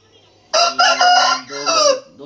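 An aseel fighting rooster crows loudly and close after a brief quiet start, one strained, broken cock-a-doodle-doo call lasting about a second and a half.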